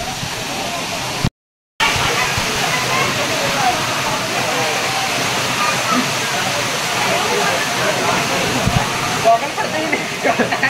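Rautwadi waterfall pours in a steady, dense roar of falling water, constant and fairly loud throughout, broken only by a brief dropout near the start.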